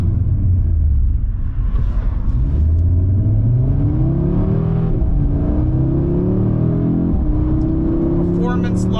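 A 2022 Audi RS3 sedan accelerating, engine rumbling close and loud with rising revs through several gear changes, someone talking over the steady drive.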